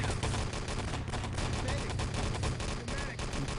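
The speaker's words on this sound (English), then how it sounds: "double rifle grenade from Coop though is gonna pretty much finish off that push" Rifle grenade blasts and gunfire during a competitive Enemy Territory match, a dense, loud barrage of booming explosions and rattling shots that runs throughout without a break.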